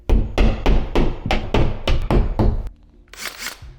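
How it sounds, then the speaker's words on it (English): Nine sharp, evenly spaced hammer blows drive fasteners halfway into wood during home construction, loud and close, followed by a brief rustle. "I like to hammer these in halfway and then screw the remainder"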